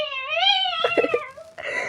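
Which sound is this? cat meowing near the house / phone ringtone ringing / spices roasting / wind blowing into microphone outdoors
cat meowing near the house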